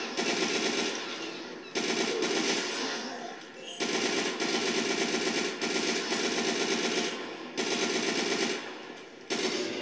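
Machine gun fire in the mobile shooter Unkilled, long sustained automatic bursts repeated several times with short pauses between, loud and close.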